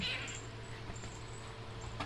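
A soft cat meow near the start, then a low steady background hum. No talking.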